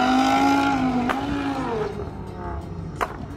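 A Nissan GT-R R35 with its 3.8-litre twin-turbo VR38DETT engine revs loudly up close, a sustained rising tone that drops back, with brief sharp bursts as the revs fall.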